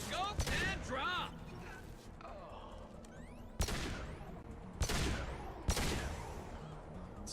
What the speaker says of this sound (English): This pistol's kind of nasty.